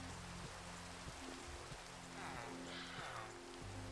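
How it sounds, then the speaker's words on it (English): Rain falling in Minecraft, a soft, continuous patter on surfaces at low volume, with a low rhythmic hum and thuds running underneath. "I do like the sound of rain."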